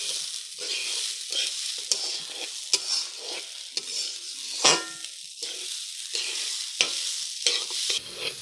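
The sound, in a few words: stirring vegetable khichuri in a pan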